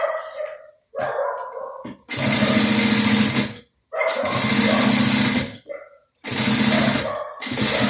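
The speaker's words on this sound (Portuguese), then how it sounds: "Essa costurinha é feita com um pé de máquina" A sewing machine stitches a bucket bag in three loud, sustained bursts of rapid whirring, separated by pauses, with someone speaking briefly between runs.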